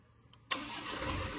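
Mitsubishi Canter Euro4 diesel truck engine cranks and fires with a sudden loud onset, then settles into a steady, close rumbling idle.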